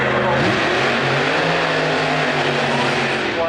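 A drag racing car roars through a run at Santa Pod, its loud engine tone sweeping steadily with harmonic bands, close and dominant while a commentator's voice talks over it.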